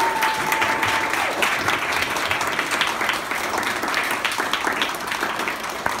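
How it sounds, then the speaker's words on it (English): A large audience applauds child performers standing together at a show, a dense, steady wash of clapping that stays loud and even for the whole stretch, with no voice rising above it. "Want to be one more big round of applause?"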